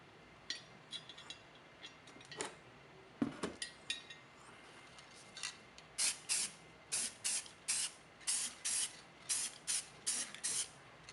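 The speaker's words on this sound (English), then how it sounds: "I give this a nice light coat of primer." An aerosol can sprays a light coat of primer on a BMY rebuild, first a few scattered short bursts with a clunk, then a steady series of about a dozen quick, evenly spaced hissing passes, close by.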